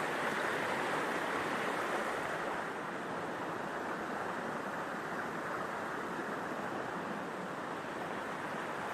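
Steady rushing of Lake Creek, on the trail from Camp Sherman to Suttle Lake, a constant broadband wash of a creek running nearby, with no voices.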